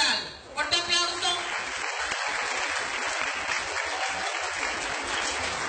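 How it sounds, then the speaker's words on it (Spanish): Steady audience applause at a school Day of the Dead altar event in Cosoleacaque, continuous and moderately loud throughout, after a brief voice at the start. "Fuerte aplauso."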